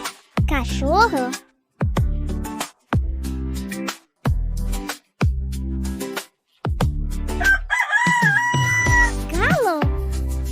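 A farm rooster crows repeatedly, with several loud, close, drawn-out cock-a-doodle-doo calls in a row separated by brief pauses, followed by mixed fowl clucking and calls toward the end.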